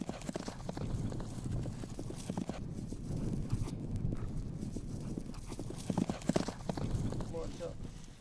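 A Kazakh racehorse in training clip-clops along with a quick uneven rhythm of hoofbeats, moderately near, while people talk over the hooves throughout.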